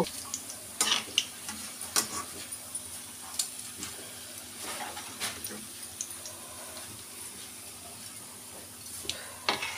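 Cabbage pakoda frying in hot oil: a steady close sizzle runs throughout, broken by sharp clicks and scrapes from stirring, with no voices.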